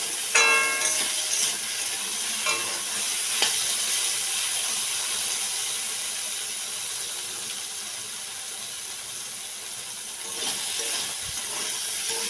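Cut eggplant stir-frying in oil in a pan, cooked in a rural home style, gives a loud, steady hissing sizzle throughout, with a few light scraping stirs near the start and again near the end, and no voices.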